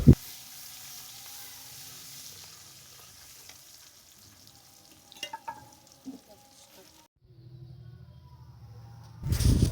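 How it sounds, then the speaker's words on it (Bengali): Chopped onion fries in hot oil with a soft, low sizzle and a few scraping stir sounds, then a brief quiet gap and a louder burst at the end. "ওই তেলের উপরে আমি পেঁয়াজ কুচি দিয়ে দিলাম।"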